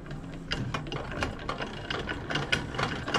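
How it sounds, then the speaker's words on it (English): A manual jack plate on a small boat being ratcheted to raise the outboard motor, giving a steady run of close, crisp metallic clicks about every quarter second over low background hum. "You're going to be out here jacking the motor up."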